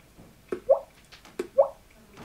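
A voice imitates water drops with two evenly spaced, quick plinking pops, each a sharp tap followed by a rising bubbly plop, close and fairly quiet against silence.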